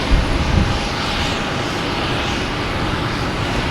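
A JetBlue airliner at Boston Logan Airport gives a loud, steady engine roar, a broad continuous rumble that holds evenly throughout with no talk.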